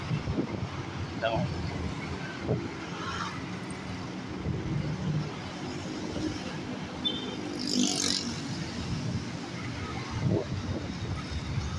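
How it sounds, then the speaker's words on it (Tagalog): Vehicles pass continuously along a road, a steady outdoor rumble of traffic with wind buffeting the microphone while someone talks over it throughout. "tuloy-tuloy yung takbo ng mga sakyan"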